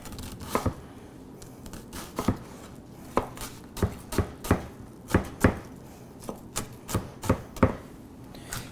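A Blue Key World chef's knife dices an onion on a board, a steady series of sharp, close cuts, about fifteen crisp strikes spaced irregularly with short pauses between runs.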